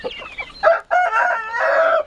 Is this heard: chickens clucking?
yes